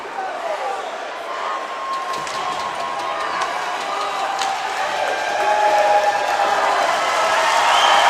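A junior hockey crowd at a Cowichan Capitals home game against Wenatchee cheers and applauds in a dense, sustained roar that swells louder toward the end, with a commentator's voice faintly beneath it.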